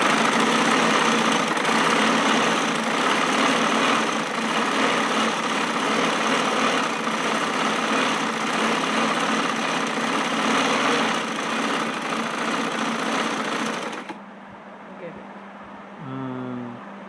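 Sewing machine running a stitching line along a trouser leg hem, a continuous close motor hum that holds steady for about fourteen seconds, then cuts off, leaving quieter room sound; voices talk over it.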